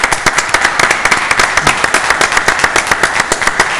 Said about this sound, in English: So the last round of applause for the evening will go to all of you.